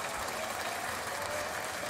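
Stadium crowd at a Copa Centroamericana football match between Herediano and Real Estelí gives continuous, fairly distant applause, a dense, even wash of clapping with no pauses.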